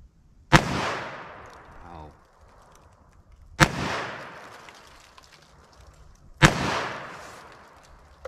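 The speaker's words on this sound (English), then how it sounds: "6 shots at 38 Special lead round nose." A Taurus 856 revolver fires .38 Special lead round-nose rounds in three loud, close shots a few seconds apart. Each sharp crack is followed by a short ringing decay.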